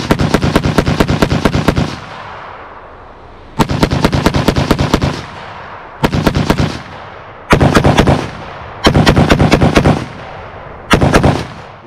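A Micro Draco pistol firing six rapid strings of loud, sharp shots outdoors, each burst a quick rattling run of cracks followed by a brief echoing pause.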